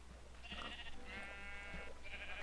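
Sheep in the Minecraft video game bleating: a couple of short, nasal in-game bleats, separated by brief pauses, fairly clear against a quiet background hum.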